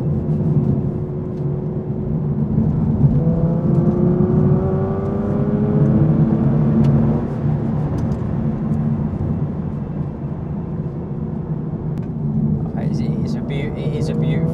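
An Aston Martin V12 Vantage Zagato engine drones steadily at low pitch with rising and falling revs, loud and close, continuing for the whole stretch with brief talk over it.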